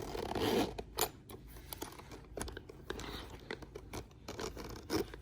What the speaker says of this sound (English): Don't you just love the sound of a nice chunky zipper?